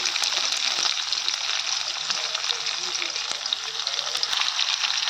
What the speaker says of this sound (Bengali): আলু আর লঙ্কা একসঙ্গে ভেজে নেব।